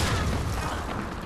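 A grenade explosion in Call of Duty 2, a brief, loud, noisy boom that starts at full strength and fades slightly over about a second.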